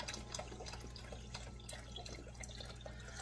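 Water trickles and splashes steadily into a cooking pot being half filled for a sausage tortellini dish, a faint continuous pouring with small drips and no talking.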